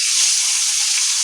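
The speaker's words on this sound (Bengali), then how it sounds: "ইলিশ মাছ ভাজা চলছে এখন।" Hilsa fish frying in hot oil, a steady close sizzling hiss that stays even throughout with no breaks or voices.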